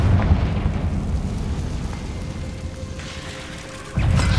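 Confringo blasting spell from the Hogwarts Legacy video game, heard as a sustained rumbling explosion wash with crackling debris, fading slightly before a fresh loud burst lands near the end.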